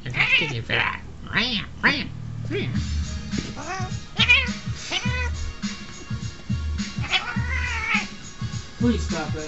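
Indoor cat letting out repeated, insistent meows and drawn-out yowls, close and fairly loud, interleaved with a voice speaking throughout.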